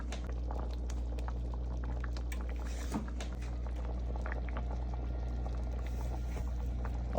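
Dumplings called spinners, made from cornmeal and plain flour, drop into a pot of boiling water on a stove: steady low bubbling and churning liquid throughout, with small splashes and clinks, no talking.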